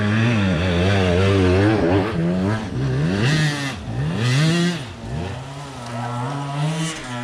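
A 125cc enduro motorcycle revs hard close by, its engine pitch climbing and dropping in repeated throttle bursts, steady and loud throughout with no talking.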